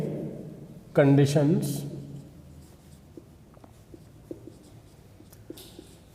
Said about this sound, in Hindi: इसकी कुछ कंडीशंस हैं, वो मैं यहाँ पे लिख रहा हूँ